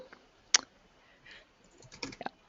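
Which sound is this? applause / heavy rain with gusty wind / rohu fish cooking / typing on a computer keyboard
typing on a computer keyboard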